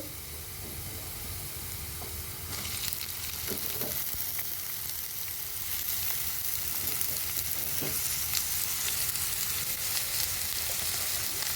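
Bitter gourd pieces dropped into a pan of lightly fried onion and chopped green chili, producing a close, continuous frying hiss that swells louder partway through and stays dense, with occasional faint stirring knocks.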